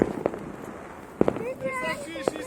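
Firework shots and crackers go off at a New Year celebration, sharp bangs spaced a second or so apart, with whistling rising tones between them and people talking and shouting nearby.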